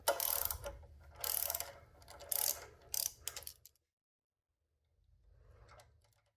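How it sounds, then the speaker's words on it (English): Socket wrench with a 16mm socket ratcheting off the flange nut on the right crank arm of a BowFlex C7 exercise bike, four or five bursts of close metallic clicking, then a pause and a softer final burst. "Use a 16mm socket and wrench to remove the flange nut from the right crank arm."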